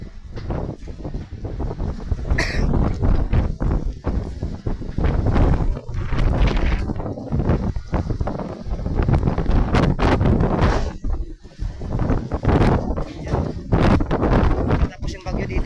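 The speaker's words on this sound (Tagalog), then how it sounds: "Malakas yung hangin mga idol." Strong typhoon wind near the shore buffets the microphone in loud, irregular gusts that rumble and roar continuously, with a voice briefly audible under the blasts.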